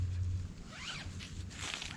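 A zipper on a hammock's bug net is pulled along in two quick runs, the closer rasping passes standing out over a low steady hum.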